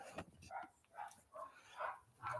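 Several French bulldogs bark outdoors in a back yard, a run of five or six short, fairly loud yaps and woofs spaced about half a second apart.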